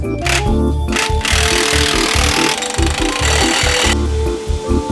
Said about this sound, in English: Next, you're gonna just go ahead and remove the U-bolt nuts.